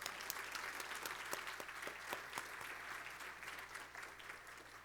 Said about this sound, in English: I think we really do need to give a round of applause